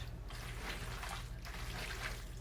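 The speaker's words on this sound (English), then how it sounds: "we're going to pour some in for sure" Reserved pasta water, about half a cup, poured into a pan of fettuccine sauce: a soft, continuous trickling splash in short bursts, quiet and close, with no talk.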